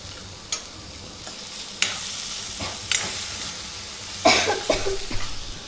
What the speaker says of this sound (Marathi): तर भाजी आता ती बनवत आहे आणि बघा अशा प्रकारे सगळा मसाला वगैरे ॲड करत आहे